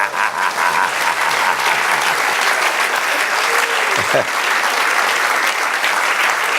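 A church congregation applauds during a Spanish-language sermon, producing dense, steady clapping that fills the whole stretch, with voices mixed in beneath it.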